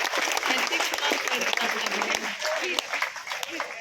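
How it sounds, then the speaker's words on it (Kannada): An audience applauds during a speech in Bangalore, a dense, steady wash of clapping from many hands that carries on throughout. "ದಯವಿಟ್ಟು ಚಪ್ಪಾಳೆ ತಟ್ಟರು ಒಂದ್ಸಲ ಜೋರಾಗಿ"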